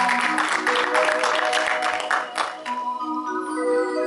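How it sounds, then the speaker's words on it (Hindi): An audience at the opening of a live music show claps together, then the applause thins and gives way to sustained musical tones that ring on alone. "किसी भी शानदार शुरुआत आप जैसे कदरदानों की तालियों के बिना तो शुरू नहीं हो सकती."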